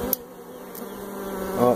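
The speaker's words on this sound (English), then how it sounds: "Yappy done found him some bees in a tree." Bees swarm in a hollow bee tree, giving a steady, close insect drone with a couple of brief louder buzzes as individual bees pass near.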